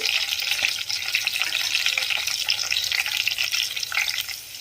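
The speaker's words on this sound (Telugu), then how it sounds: "ఈ వెల్లుల్లిని మరీ ఎక్కువగా ఫ్రై చేసుకోకూడదు" Peeled garlic cloves fry in hot oil in a pan, giving a steady, close crackling sizzle with small pops and occasional stirring, continuous throughout without talk.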